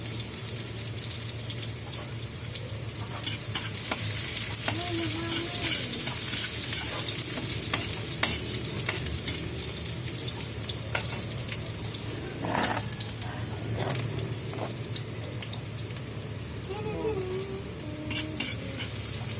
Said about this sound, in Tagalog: Halagyan na po ang bawang, yung sibuyas, yan.